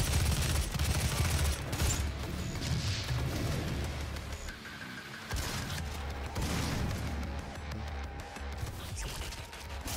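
Rapid bursts of gunfire in a video game crackle and thud almost continuously across a dense, noisy soundscape, with a brief lull in the middle before the shooting resumes.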